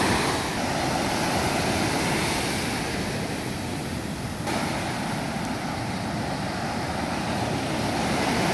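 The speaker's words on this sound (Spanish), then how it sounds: "Y ahí vienen las olitas" Small ocean waves wash steadily at Carrizalillo beach during a children's surf contest, a continuous broadband roar of surf and wind that holds evenly throughout without voices.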